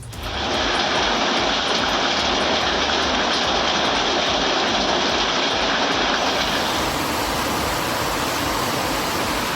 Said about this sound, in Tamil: இடி மின்னலுடன் கூடிய கனமழை பெய்தது